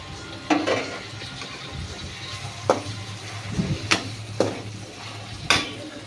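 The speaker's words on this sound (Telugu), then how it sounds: "ఇంకా టమాటోస్ వేస్తున్నానండి." Tomatoes go into a pan of frying bitter gourd curry, with a low sizzle under several sharp clinks and scrapes of a spoon against the pan, close and unaccompanied by talk.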